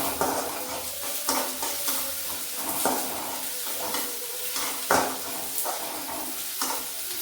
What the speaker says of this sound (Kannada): ನಾನು ಈಗ ಆಯಿಲ್ ಹಾಕಿ ಆನಿಯನ್ ಹಾಕಿದ್ದೀನಿ.